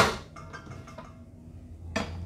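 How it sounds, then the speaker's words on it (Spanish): A metal mixing bowl is set onto a stand mixer, giving a bright clank at the start and a few lighter metallic clinks and taps, then another sharp knock near the end. "Montamos nuestra batidora"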